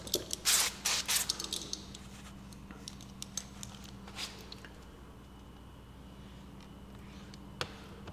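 Several quick spritzes from a spray bottle of baby shampoo and Dawn soap solution used for window tinting a 2022 Toyota Corolla, followed by faint scattered taps and handling noises in a quiet setting.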